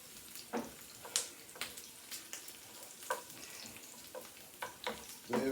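Onions frying in a pan for smothered pork chops with onion gravy, a quiet steady sizzle broken by occasional stirring clicks and scrapes, close but faint, with no voices.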